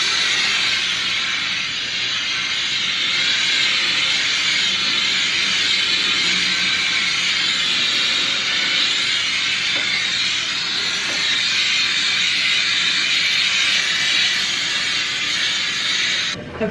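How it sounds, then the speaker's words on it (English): A Conair clothes steamer hisses loudly and steadily while steaming clothes, a continuous close-up rush of steam that lasts the whole stretch with no speech. "It's like almost immediate that it starts steaming."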